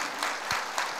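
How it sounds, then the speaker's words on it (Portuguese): Congregation applause at a church service, a steady wash of many hands clapping throughout a brief moment. "Dê uma salva de palmas para ele, porque eles merecem."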